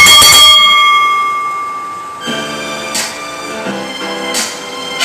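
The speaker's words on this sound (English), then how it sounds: "Ring the bell." A wrestling ring bell clangs repeatedly after a three-count pin at a pro wrestling event, bright metallic strikes ringing out over crowd noise, with a long decaying ring from the first hits.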